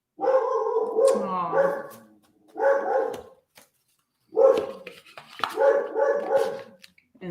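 A pet dog barks and whines close by in several loud, drawn-out bursts with short pauses between, and a person briefly murmurs once.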